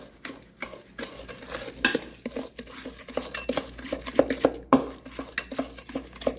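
A spoon stirs thick blondie batter with sugar in a bowl, giving quiet, irregular scraping and knocking strokes close up, with no one talking.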